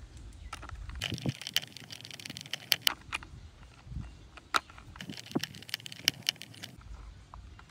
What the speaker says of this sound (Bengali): জাস্ট দুইটা স্ক্রুকে টাইট করলাম আর তার সাথে সাথে এই দুইটা পার্টকে ফিক্স করে ফেললাম।